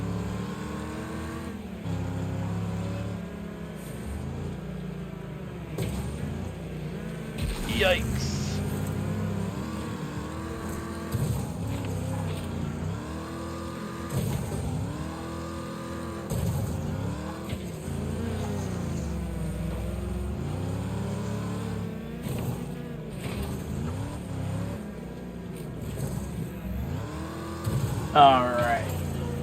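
Old American muscle car in the racing game Wreckfest, its engine droning and revving steadily through a race with shifting pitch, brief impact bursts, under near-continuous talk.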